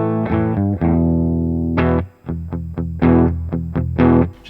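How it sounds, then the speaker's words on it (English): A clean electric guitar tone through a Boss Katana Mk II amp rings out in strummed chords and picked notes, close and fairly loud with a light shimmering effect, alone with no talking. "Just that clean tone"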